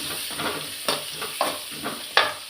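Onions, green chilies and turmeric powder sautéing in a pan, a steady sizzle with several sharp scraping stirs spaced through it, close and clear with no talking.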